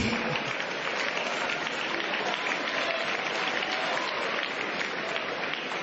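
An audience claps steadily, a dense wash of applause that holds at an even level from start to finish.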